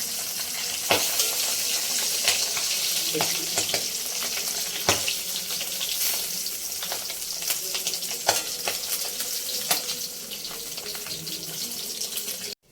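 Tangra fish fry in hot oil under a lid, giving a constant crackling sizzle dotted with sharp pops and spits, steady and close with no talking.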